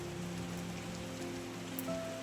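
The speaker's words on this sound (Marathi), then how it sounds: "मस्त पाऊस भरलाय" Rain pours steadily over the Konkan countryside, heard from a cattle shed beside a village house, a soft continuous patter with faint low background hum and no talking.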